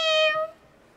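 A voice imitates a cat's meow, performed live in a children's choir concert: one clear, sustained, harmonic meow lasting about half a second, then fading into quiet room tone.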